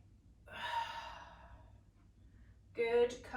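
A breathy exhale during a Pilates strength and stretch routine, a long airy out-breath lasting about a second, followed by a sharper breath sound, heard close and alone without talk.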